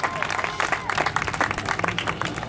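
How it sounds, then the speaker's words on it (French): Audience applause at a French prize-giving ceremony honouring young children, steady dense clapping from a crowd filling the room with a faint murmur underneath, no speech. "vos applaudissements"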